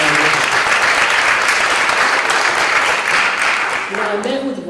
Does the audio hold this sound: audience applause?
yes